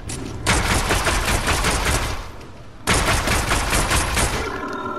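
Rapid combat pistol gunshots in a video game, dense overlapping bursts of loud shots fired in quick succession, with a brief lull before another sustained volley.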